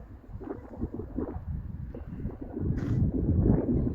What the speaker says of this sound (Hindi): और हवा चल रही है